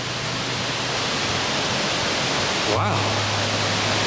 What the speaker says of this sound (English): I hear a raging rapid right up here. I thought it was the wind, but it's not